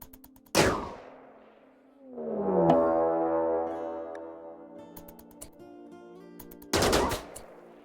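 Rifle gunfire in the video game RimWorld: sharp isolated shots at the start and end bracketing a ringing, sustained tonal game sound in between, loud and close with no talk.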